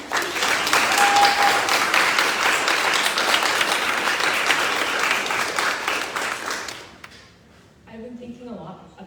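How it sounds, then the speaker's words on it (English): A loud, dense round of applause from the audience at a Princeton Reunions 2022 panel on climate and divestment, sustained for several seconds before fading, with a voice starting to speak afterward. "If we could take a moment to just do a round of applause for Divestment."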